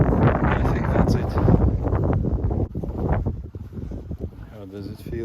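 Wind blows across open desert dunes, a steady broadband rush buffeting the microphone, with a person talking over it throughout.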